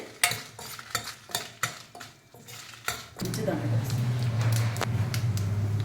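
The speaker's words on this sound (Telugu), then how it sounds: "ఆయిల్లో ఇవి లైట్గా జీలకర్ర, ధనియాలు రెడ్గా అయ్యే వరకు వేయించుకుందాము." Cumin, coriander seeds and dried red chillies are fried in oil for a gongura chutney, starting with a series of sharp metal clinks and scrapes of utensils on a pan, then settling into a loud continuous sizzle.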